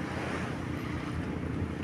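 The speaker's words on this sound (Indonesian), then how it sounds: "kita sekarang berada di pantai Port Dickson" Ocean surf washing in at Port Dickson beach in Negeri Sembilan, a steady broad rush of waves mixed with gusty wind buffeting the microphone, continuous and fairly close.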